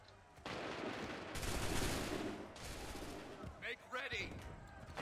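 Musket volleys crack out in Assassin's Creed III, a ragged burst of overlapping shots rolling across the field, then after a short lull a second crackling salvo, with voices shouting commands in between.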